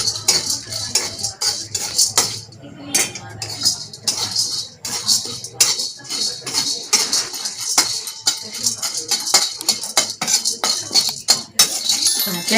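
A utensil scrapes and clinks steadily against a pan as dry lentils and chana dal are roasted until lightly brown for curry leaf powder, a continuous busy rattle of close metallic scratches with brief pauses.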